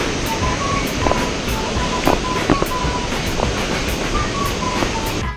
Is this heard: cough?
no